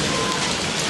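Steady rain pours down outdoors, a dense, even hiss that fills the whole short stretch with no pauses.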